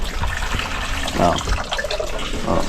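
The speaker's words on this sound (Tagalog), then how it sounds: "Kung gusto mong mag-igib ng tubig, bumbahin mo lang to." Water gushing from a deep-well hand pump outdoors in Mindanao, a steady splashing stream with pulses that follow the pumping strokes.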